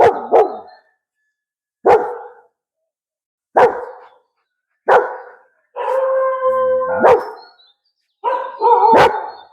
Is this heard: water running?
no